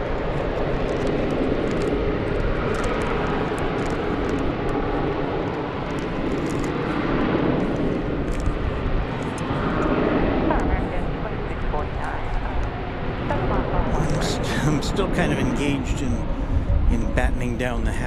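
Airliner taking off at DFW airport, a broad, loud jet engine roar sustained throughout, heard under radio air traffic control talk.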